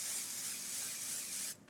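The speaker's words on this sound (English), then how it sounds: "this is the finishing spray by Dry Bar" Dry Bar finishing spray misted onto hair: a single continuous aerosol hiss lasting over a second, close and fairly soft, cutting off abruptly.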